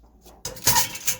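A metal steamer basket is set into a pot of water while garlic is being steamed, giving a brief clatter of metal with a few short clanks, close and fairly loud.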